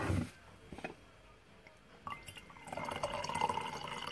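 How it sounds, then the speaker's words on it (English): Tea poured into a cup during a lemon tea tasting, a brief drip at first, then a steady trickling fill that grows louder toward the end, with no voices. "I've made enough room in my cup that I can pour out some more."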